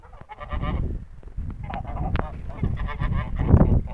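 Mammoth geese honk and cackle repeatedly in a noisy flock, loud and close, with overlapping calls throughout.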